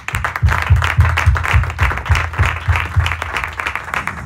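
A church congregation applauds during a worship service, giving steady, rhythmic clapping that stays full and lively throughout.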